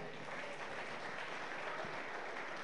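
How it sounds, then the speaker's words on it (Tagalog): A church congregation claps together in sustained, even applause that fills the room at moderate distance, with no break. "Palakpak yung Ginoo."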